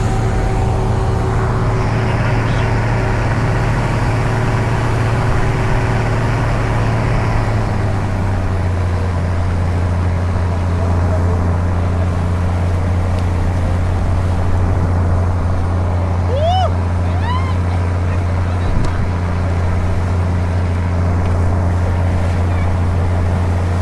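A ship's engine drones on while travelling toward Sabtang Island, a loud, steady low hum with a pitch drop around eight seconds, and faint wind and water noise on top; no talking.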